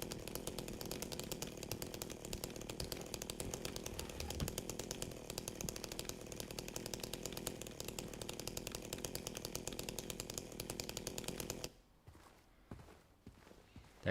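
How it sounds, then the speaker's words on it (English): Chainsaw engine from the Silent Hill 2 video game, droning loudly and continuously with a steady, rattling rhythm, then cutting off abruptly near the end, leaving faint scattered sounds. "That chainsaw noise is gonna get real obnoxious."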